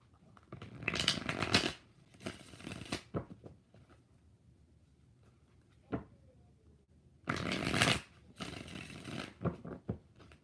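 Tarot cards being shuffled by hand in two close, crisp bursts of riffling and sliding, the first near the start and the second toward the end, with quiet rustles and taps in between and no talking.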